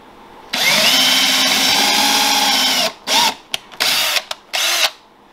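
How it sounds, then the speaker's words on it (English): A power drill pre-drilling holes in a wooden cabinet shelf whines steadily for a couple of seconds, then gives several short bursts as the trigger is squeezed and released. "now we're pre-drilling the holes in the shelf that will hold the backstop"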